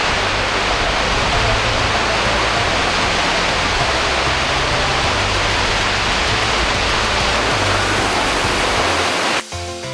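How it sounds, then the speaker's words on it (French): Gullfoss in Iceland, one of Europe's most powerful waterfalls, thunders as a loud, dense, continuous roar of crashing water close by, unchanging until it cuts off abruptly near the end. "on se dirige maintenant vers la cascade de Gullfoss, qui est l'une des cascades les plus puissantes d'Europe"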